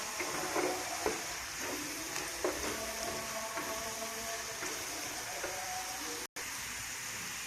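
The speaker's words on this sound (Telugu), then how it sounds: "బంగాళదుంప అయితే బాగా వేగిందండి" Potatoes fry in a pan with turmeric and chili powder, giving a soft steady sizzle with faint occasional stirring clicks, quiet and continuous.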